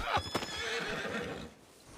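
A horse lets out a loud, close whinny that rises and then trails off, with a faint knock of hooves and a brief thump at the end.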